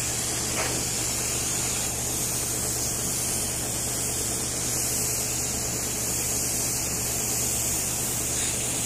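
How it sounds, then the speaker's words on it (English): Airbrush spray gun spraying lacquer while refinishing a mahogany hutch, a steady, close, continuous hiss of air and atomized finish lasting throughout without pause. "it works great for spraying lacquer"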